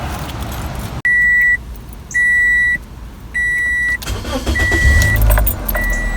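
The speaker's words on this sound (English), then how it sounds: "So let's go ahead and start the car up." Toyota Corolla from the 2003–2013 range, parked during an oil and filter change, with three repeated dashboard warning chimes followed by the engine cranking and catching into a low idle rumble, close and fairly loud.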